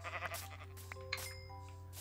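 A Minecraft sheep bleats, a short, faint electronic baa heard alone over a steady low game hum, with a couple of quick clicks in between.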